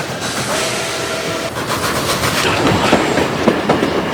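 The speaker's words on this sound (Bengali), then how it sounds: "তীক্ষ্ণ হুইসেল দিয়ে এগিয়ে আসছে মধ্যরাতের ডাউন ট্রেন।" A midnight down train passes close and loud as a dramatized sound effect, steady rumbling with rhythmic clickety-clack of wagon wheels building toward the end and a faint whistle tone early on.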